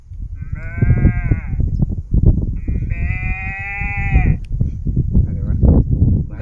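A human voice imitates a newborn calf with two drawn-out, wavering bleating calls, loud and close, over a background of murmuring and room noise.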